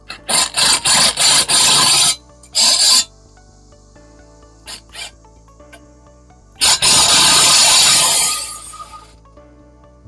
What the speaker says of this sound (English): impact gun with our T40